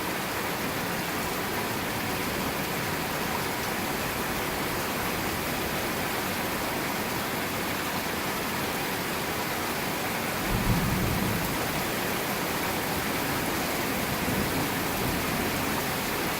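Dense, hissing heavy rain pours without letup during a severe thunderstorm in Newburg, Pennsylvania, with a brief low thunder rumble breaking through late in the stretch.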